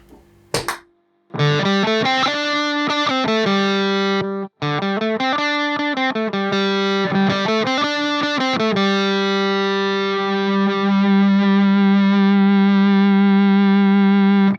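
Electric guitar played through a feedbacker pedal with distortion, boosting an amp's dirty channel: loud, sustained overdriven notes and bends with shifting pitches, ending in a long ringing feedback tone.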